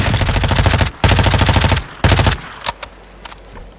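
Submachine gun fired in a video game: three loud, rapid bursts of automatic fire, each under a second long, followed by a few scattered single clicks and impacts, with no voices.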